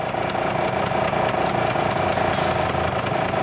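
Vintage Vespa scooter engine running steadily while its ignition timing is set, a loud, close, rapid putter with an even rhythm and no speech.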